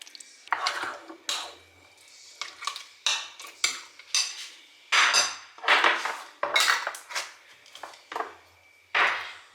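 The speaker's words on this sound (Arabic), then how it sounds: "ونقلب نقلب نقلب." A spoon stirs food in a pan during home breakfast cooking, giving repeated clinking scrapes of metal on the pan in irregular bursts, moderately loud and close, with no talk over them.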